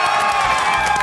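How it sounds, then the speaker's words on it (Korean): Citizens gathered before a large screen at Onyang Oncheon station square in Asan, South Chungcheong, rise and cheer at the unanimous Yoon Suk Yeol impeachment ruling: a brief, loud, dense burst of crowd cheering and shouting. "시민들도 자리를 박차고 일어나 환호했고"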